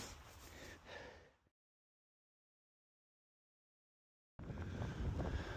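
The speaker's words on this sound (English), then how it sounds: "It's a lovely sharp breeze here, but once again, same farm, bloody wind" A sharp breeze buffets a microphone outdoors in a home garden, a rough, rumbling gust at the start, then sudden silence, then a louder blast of wind noise to the end.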